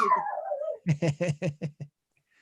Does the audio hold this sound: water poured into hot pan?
no